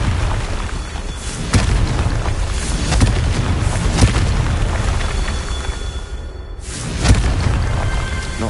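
A Confringo blasting spell explodes in Hogwarts Legacy, a loud, rumbling blast with sharp cracks over a steady roar of ambient game sound. A second sharp burst comes near the end.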